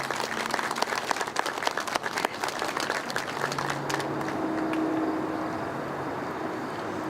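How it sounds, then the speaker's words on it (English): Outdoor crowd applause for a speaker at a Medal of Honor monument unveiling for Cpl. Charles Cawetzka, dense clapping that fades out after a few seconds into a low background hum. "Another round of applause for her."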